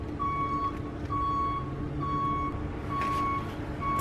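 Pickup truck reversing beeps, a steady series of evenly spaced single-tone electronic beeps repeating about once a second over low engine rumble and background noise.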